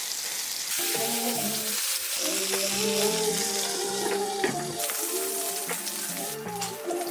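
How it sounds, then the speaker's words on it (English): Cheeseburger patties fry in a hot skillet with a steady, close sizzle, while pan and utensil clinks and some background kitchen activity sit over the constant crackle; no one speaks. "Make sure that the burgers are making good surface area contact with the skillet."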